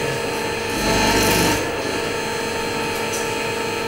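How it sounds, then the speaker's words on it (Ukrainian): A handmade resin souvenir with embedded Russian military scrap metal is sanded by hand, giving a steady raspy rubbing that swells louder for a moment early on, then carries on evenly. "Далі шліфує, підбирає форму та доповнює символічними гравіюваннями."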